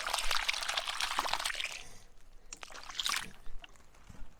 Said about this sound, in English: pour some water on each one of them